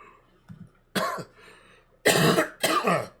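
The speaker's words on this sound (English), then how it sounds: "I've been coughing all day." A few harsh coughs, one short burst followed by two loud, close coughing fits with a brief pause between them.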